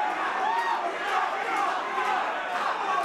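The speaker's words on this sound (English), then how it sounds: "I hear the crowd just roaring" A fight crowd roars at ECF 21 during the George Watkins vs Sobhi Othman bout, a dense, steady wall of shouting and cheering that runs without a break for the whole stretch.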